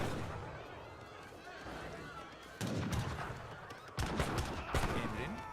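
Rifle gunfire in an Age of Empires 3 battle, dense overlapping volleys and sharp cracks that grow louder in bursts, heard beneath continuous commentary.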